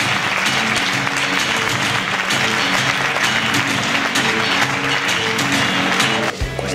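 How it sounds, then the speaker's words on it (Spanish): A large crowd at an NBA 2K15 launch event applauds and cheers continuously to welcome NBA players, a loud, dense wash of clapping that holds steady throughout before dipping slightly at the very end. "Les pido un fuerte aplauso en esta bienvenida para James Harden y Anthony Davis."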